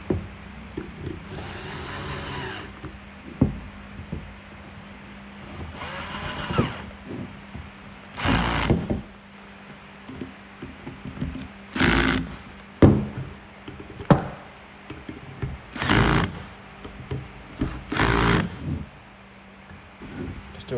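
Screws are run in and tightened on the oil cooler of a Chevrolet Cruze 1.4, heard as a series of short, sharp power-driver bursts spaced irregularly over low background noise.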